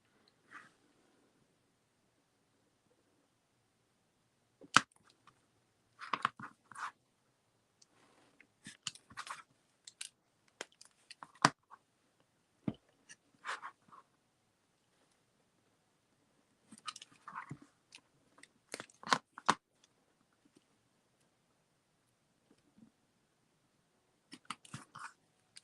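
Scattered crisp cuts and scrapes of a carving tool gouging a lino printing block to shape acorns, faint and close, coming in irregular clusters separated by quiet pauses.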